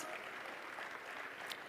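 A crowd at a national launch event in Kenya applauds with dense, steady clapping, heard from a distance.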